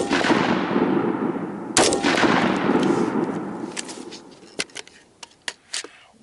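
An AR-15 rifle fires a loud close shot that rings out and decays, followed by a second sharp report and then a series of quieter clicks and metallic clacks of the action.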